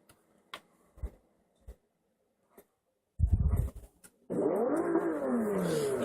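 A Lexus at a car meet, its engine starting up with a loud burst and then settling into a steady, close, strong idle and rev, after scattered light ticks and clicks.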